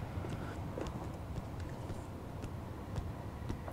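Footsteps of the grandma ghost in the Korean horror game Project Nightmare, faint, quick, irregular thuds and taps at low volume over a soft background hum, heard alone.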